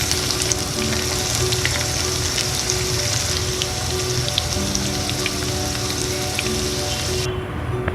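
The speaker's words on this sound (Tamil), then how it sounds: "இது ஒரு 5 நிமிஷம் அப்படி பொரியட்டும்" Bitter gourd slices deep-fry in hot oil with a dense, steady crackle and hiss that holds close and loud throughout, thinning slightly near the end.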